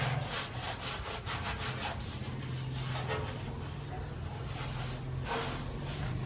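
A new sponge rubs steadily across the metal body of a brand-new barrel smoker grill outdoors, a continuous scrubbing swish in repeated strokes, close and moderately loud with no talk.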